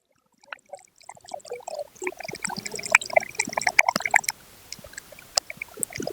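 Strained jaggery syrup is poured into cooked poha for payasam, producing a close liquid trickle and splash that builds after a brief silence, then thins into scattered drips.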